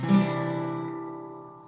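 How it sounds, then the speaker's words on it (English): A single strummed guitar ninth chord rings out and slowly decays over a couple of seconds, with no voices. "So a 9 chord would sound something like this."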